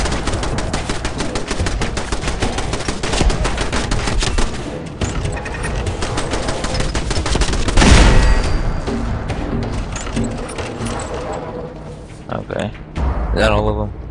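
Sustained gunfire in Fallout 4, rapid bursts of shots hammering almost continuously for most of the stretch, with a heavy booming hit near the middle and a choppier tail toward the end, mixed under game ambience and a speaking voice.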